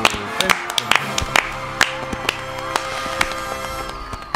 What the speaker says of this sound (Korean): 콩추 초대석 뜨거운 박수와 함성으로 시작하겠습니다